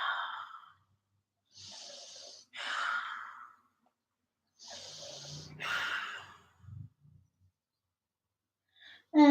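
Slow, deep breaths during a morning yoga flow, a few long inhales and exhales spaced apart with pauses between them, close and fairly quiet, with no talking.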